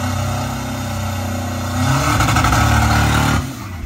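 A converted school van in Thailand revving hard at a drag race, a loud continuous engine roar that climbs in pitch and intensity midway before dropping off near the end.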